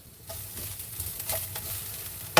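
Food sizzling and frying in a pan while cooking a curry at home, a steady crackle with scattered pops and scraping stirs, ending in a brief louder clatter.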